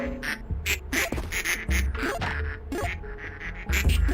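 Repeated quacking from ducks in a video game, several loud calls in an irregular rhythm over a busy game soundscape with low thuds, no talk over it.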